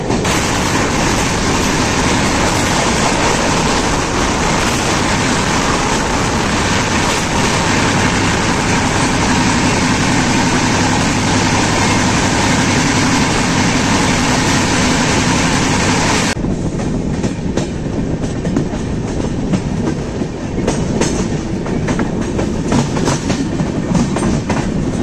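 A WAG-12 electric locomotive hauls an express train out of a station, giving a loud, continuous rumble of wheels and rail noise throughout, with the sound abruptly dulling partway through.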